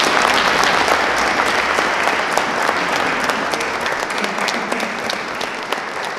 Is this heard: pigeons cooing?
no